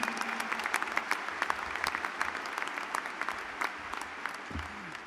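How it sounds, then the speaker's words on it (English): A graduation audience of graduates and their families at a spring university commencement breaks into sustained applause, dense, steady clapping filling the hall for the full stretch. "could give themselves, all of you graduates and all of the family members who've supported you graduates, a big round of applause"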